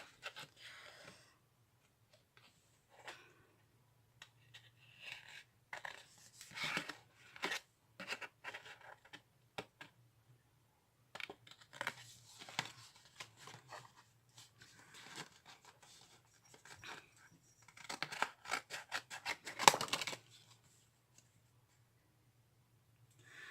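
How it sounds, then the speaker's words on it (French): Small scissors snip paper in short, irregular bursts of crisp cuts, close up, with pauses and rustling between them. "il va me falloir peut-être mes petits ciseaux"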